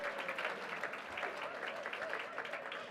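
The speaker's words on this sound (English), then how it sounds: "let's get a round of applause here" Convention audience applause in a hall, a continuous patter of many hands clapping at moderate volume, with voices faintly mixed under it.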